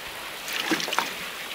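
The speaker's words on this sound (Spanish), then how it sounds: "Ya cogemos el cubo, empezamos a echar agua." Water poured from a bucket onto a sluice in the mining video game Gold Rush: The Game, a short splashing gush that swells briefly and then settles into a steady watery hiss.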